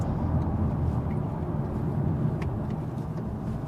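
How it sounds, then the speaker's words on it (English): Volkswagen T-Roc R performance SUV with a 7-speed DSG and optional Akrapovic exhaust accelerating up a road, heard from inside as a steady, moderately loud engine and road drone. "And this Akrapovic optional exhaust, definitely also giving us some sounds note."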